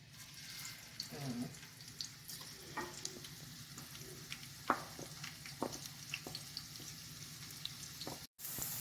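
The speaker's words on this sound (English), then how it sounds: "right now I got some oil on the pan" Oil crackling in a frying pan, a quiet, uneven sizzle with scattered pops and light clinks of utensils close by.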